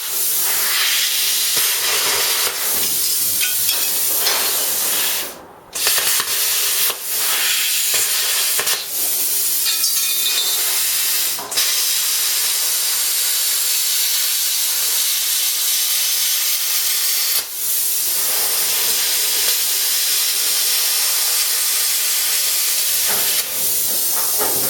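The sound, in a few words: plasma cutter cutting a hot water tank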